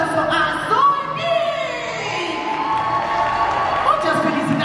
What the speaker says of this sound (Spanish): Quiero que le demos un muy fuerte aplauso a Zombie.